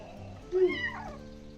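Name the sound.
cat meowing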